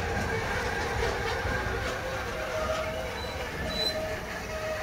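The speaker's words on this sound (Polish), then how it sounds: "Skład został wyhamowany dopiero co pojechał tamten Trax" Freight train braking past railway tracks in Bischofsheim, a continuous loud rolling rumble with a thin metallic brake squeal rising and fading, heard close with no voices.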